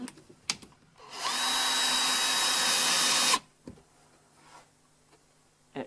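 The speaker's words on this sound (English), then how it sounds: "Make sure it stays in the right place by screwing in the 2 screws that I already got" A screw is driven into guitar wood in one continuous, close, buzzing whir lasting about two seconds, with a few small clicks and knocks before and after.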